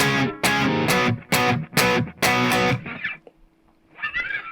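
Distorted rhythm guitar plays a run of loud, choppy chord hits, then goes quiet for a moment before a softer strum comes back in.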